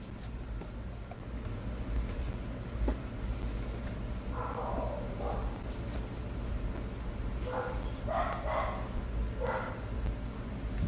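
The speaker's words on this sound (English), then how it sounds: "Damn dog's going off." A dog barks in the distance in two short bursts of several barks each, over a steady low background hum in a room.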